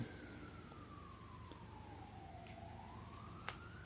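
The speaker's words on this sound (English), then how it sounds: "There's sirens. Probably a fire truck going by." A faint, distant fire truck siren wails in a slow falling then rising sweep as it passes far off under a steady low background hum.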